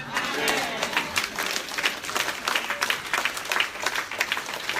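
A church congregation at a revival service in Guadeloupe breaks into loud, sustained applause and cheering, with dense rhythmic clapping and shouts filling the room throughout.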